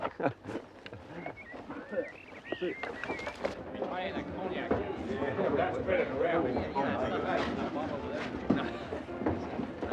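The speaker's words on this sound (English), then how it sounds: "Damn the bloody crows." Crows call in a WW1-era Australian setting, their cries rising now and then beneath steady male conversation that dominates the scene.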